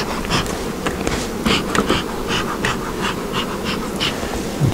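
Honey bees swarm at an open hive during a hive check, a loud, close, continuous buzz with individual bees droning past the ear in rising and falling sweeps.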